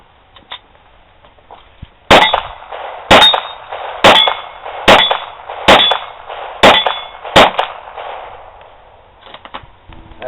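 Eight sharp metallic clangs ring out at a steady pace, each a loud close ping of a Ruger Mark III .22 long rifle round striking a steel target, with a faint tap before the series.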